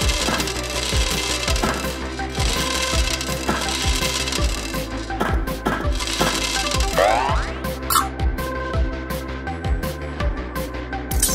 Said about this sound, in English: Spheres are falling because of gravity.